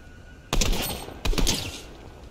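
Two sharp, loud DMR rifle shots crack in Fortnite, spaced under a second apart, each followed by a brief ringing tail over a quiet background.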